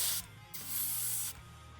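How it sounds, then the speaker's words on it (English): Airbrush spraying thinned paint onto a fantasy miniature, two close hissing bursts, one short and one longer, separated by a brief pause. "Here, let's spray it."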